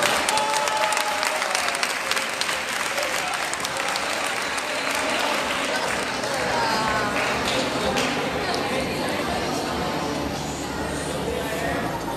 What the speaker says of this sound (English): Again, a round of applause to Rachel Miguel.